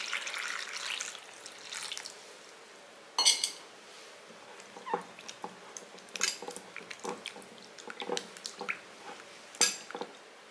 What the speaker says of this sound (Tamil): வாங்க தண்ணி ஊற்றி கழுவிக்கலாம்.